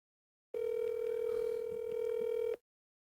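A telephone line tone sounds while a call is placed: one steady, loud electronic hum that holds for about two seconds, then cuts off.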